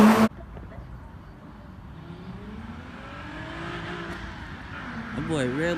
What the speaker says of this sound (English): I've never been outside of my car to hear the sound of the power that it's producing.